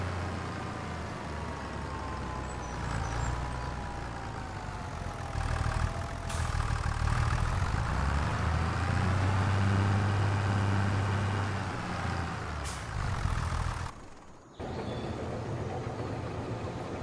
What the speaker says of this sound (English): I'm telling you, that delivery truck is lost.